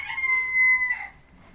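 A single rooster crows once, loud and close, in a farmyard henhouse where two new roosters have settled in; the call holds steady, then cuts off into quiet.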